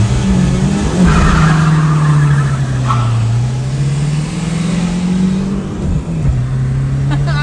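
A car launches hard off the line in a drag race, its tires skidding and squealing over a loud, steady engine drone that stays close and continuous throughout.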